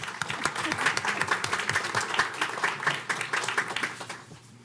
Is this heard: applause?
yes